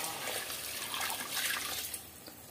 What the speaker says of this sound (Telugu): ఒక లోట వాటర్ అయితే వేసేసుకుందామండి